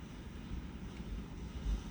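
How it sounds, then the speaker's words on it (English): Low, steady rumble of wind buffeting a microphone outdoors on an island, a continuous muffled roar with no other distinct sounds. "the wind has picked up while I was talking."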